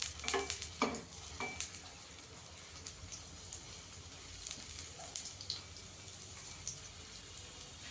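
Oil sizzling around a parotta on a hot pan, a faint soft hiss with a few sharp crackles and spatter pops early on, then quieter steady frying.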